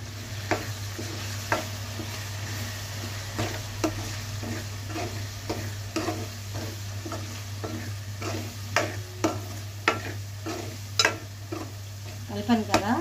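Chili powder and coriander powder are stirred in a frying pan over a low, steady sizzle, with a spoon scraping and knocking against the pan in an irregular rhythm close by.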